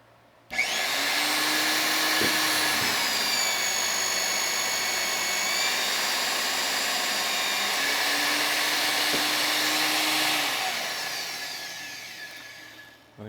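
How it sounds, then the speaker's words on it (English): Pipe facing tool shaving plastic pipe for butt fusion, a loud steady motor whine with high scraping tones starting abruptly, holding for about ten seconds, then tapering off as cutting stops. "I'm going to turn the facing tool on and bring pressure to bear so that we're shaving the pipe until it stops"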